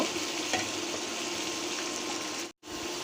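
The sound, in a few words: ground cumin and onion paste frying in pan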